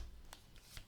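Tarot cards riffled and shuffled in a brief burst, a few soft quick flicks, close and quiet.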